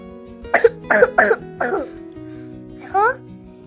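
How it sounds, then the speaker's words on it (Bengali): A person coughs four times in a quick, harsh burst, then pauses before a short voiced sound near the end, all close and fairly loud in a quiet room. "কালকে থেকে কত কাশি হয়ে যাচ্ছে"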